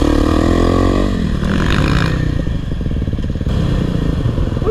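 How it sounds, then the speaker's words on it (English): A dirt bike engine, a 2022 Kawasaki KLX 300R or a 2009 KTM 450 SXF, revs hard for a wheelie on a trail, its loud close roar shifting pitch with rattling and clatter throughout. "See if we can pop a little wheelie here."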